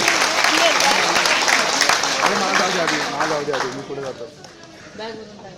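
A seminar audience breaks into loud clapping that gradually thins and fades, with a voice talking over the applause.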